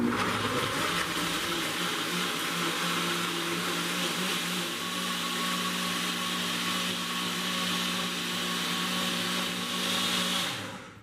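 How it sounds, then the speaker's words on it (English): A high-speed blender whirs steadily as it blends a jackfruit smoothie, a loud continuous motor drone with liquid churning that runs alone for about ten seconds, then stops abruptly. "this high quality, high speed blender that will not empty your pocket"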